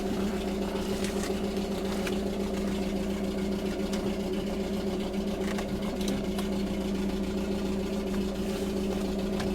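A Peugeot 307 engine idles roughly, a steady low hum with a faint uneven shake running continuously and close by, with no talking over it.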